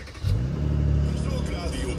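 A facelifted Mercedes-AMG C43 Coupe fires up with a quick cranking burst, then settles into a deep, rich idle rumble that holds steady close by, a voice briefly audible underneath.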